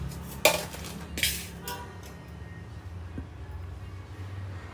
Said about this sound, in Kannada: ಸೊ ನಾನು ಇವಾಗ ಇಲ್ಲಿ ಈ ಪಾತ್ರೆಗೆ ನಾನೇನು ತೊಗೊಂಡಿದ್ನೋ ಅದನ್ನೆಲ್ಲನೂ ಹಾಕ್ಕೊಳ್ತೀನಿ